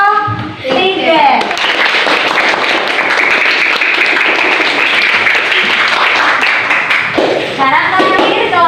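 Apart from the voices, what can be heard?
audience applause for a presenting group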